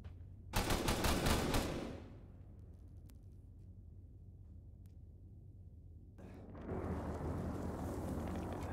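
A magazine emptied in the video game ArmA 3: a loud, fast burst of automatic fire lasting about a second, then a low rumbling lull, then a steadier noisy roar of distant combat.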